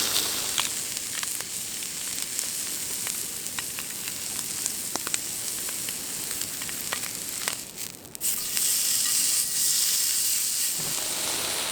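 Hanwoo beef striploin sizzles on a grill at a riverside campsite, a steady close hiss with scattered pops and crackles that grows louder and brighter near the end.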